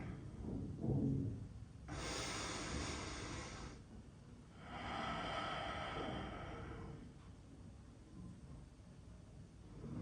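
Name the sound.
big exhale during yoga breathing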